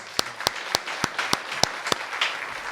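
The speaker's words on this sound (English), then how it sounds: "Clap it up for that" A small group claps on a podcast set, a run of about nine sharp, evenly spaced claps close to the microphone, heard alone without talk.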